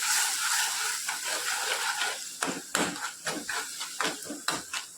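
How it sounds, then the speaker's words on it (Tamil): Soft sizzling and bubbling from a pan of black chickpea curry with coconut, with small irregular pops and clicks that grow more frequent as it starts to boil, close by and fairly quiet. "லைட்டாக கொதி வர ஆரம்பிக்குது"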